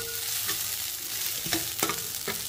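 Onions sizzle and hiss in hot oil for egg fried rice, a continuous frying crackle broken by a few sharp clinks and scrapes of stirring.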